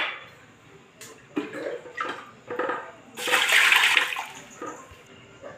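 Water splashing as toor dal and moong dal are rinsed in a pressure cooker, short bursts of swishing and pouring with a louder rush in the middle, close and alone.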